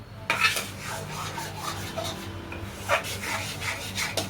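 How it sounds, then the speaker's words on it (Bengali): A spoon scrapes and stirs tomato and paneer masala in a pan, with continuous close rubbing and occasional sharper clinks against the metal. "এটার থেকে তেল ছাড়বে, ততক্ষণ নাড়বো আমি"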